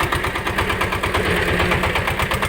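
A Shifeng 354 single-cylinder four-wheel-drive mini tractor engine of 35 horsepower runs steadily nearby, a fast, even chugging throb with no voices.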